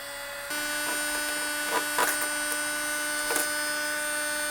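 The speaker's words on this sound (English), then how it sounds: "I'm going to heat it up and see if it comes easier by heating it up" A heat gun runs with a steady, whining motor hum as it warms the adhesive behind a trim piece on a BMW E92/E93 M3. The tone kicks in after a brief pause, with a few faint clicks and taps over it.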